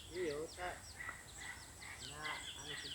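Tall yellow-legged chickens on a mountain farm cluck and chatter in quick overlapping bursts, several birds calling close by over a low background hum.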